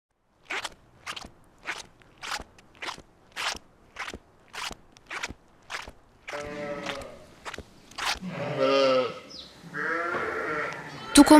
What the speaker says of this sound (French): Les 2/3 de nos 300 brebis mettent bas sur 3 semaines.